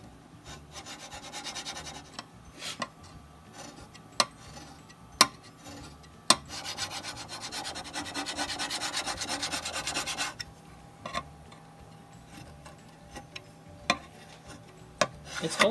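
A mild steel edge rubs and scrapes across laser-marked stainless steel in repeated rasping strokes, punctuated by sharp clicks and knocks, close up with no talking.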